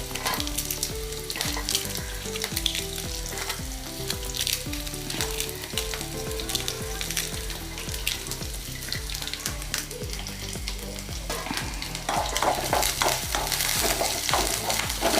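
Curry leaves and broken dried chilies fry in hot oil for a mango pickle, a steady loud sizzle with stirring scrapes throughout, swelling slightly louder toward the end, over a backdrop of music.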